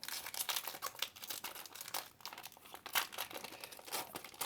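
A Pokémon booster pack wrapper for the Clash des Rebelles set crinkles and tears continuously, close and fairly loud, with sharp crackling bursts and no talking.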